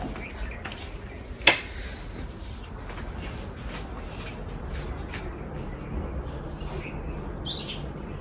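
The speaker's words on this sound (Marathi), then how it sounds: "इथे सुद्धा चिमण्या येतात" House sparrows chirp faintly outside a home on a sunny day, with sparse, scattered tweets over a quiet room background and a brief sharp tap near the start.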